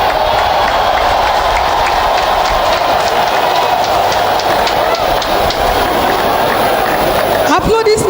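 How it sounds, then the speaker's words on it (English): Crowd applause at a Nigerian presidential inauguration right after the oath of office, a dense, steady wash of clapping from a large gathering that holds loud for several seconds. "Applaudissements."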